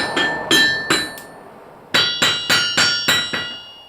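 A hammer rings sharply on steel-topped, cast-bottomed anvils, small and large: four bright metallic blows, a short pause, then six quicker strikes, each leaving a clear ringing tone.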